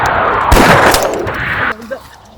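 Gunfire bursts in a comedy sketch, loud and dense for the first 1.7 seconds with sharp cracks, then cutting off to quieter background.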